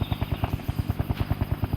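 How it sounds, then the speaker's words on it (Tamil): Helicopter in the video game Dude Theft Wars, rotor blades chopping in a fast, even rhythm of loud thumps, close and alone. "ஹெலிகாப்டர்."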